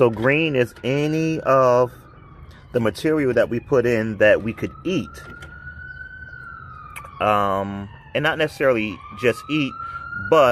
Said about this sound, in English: you can hear an ambulance going by.